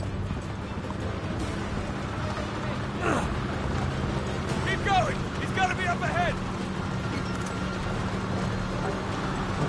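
Horse hooves clip-clopping in Uncharted 3 gameplay, a steady stream of hoofbeats under background noise, with someone talking over them and brief whinny-like calls.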